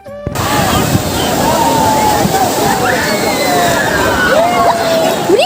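Rough sea waves slosh and churn in a loud, continuous roar close by, with voices and distant calls mixed faintly into the water noise.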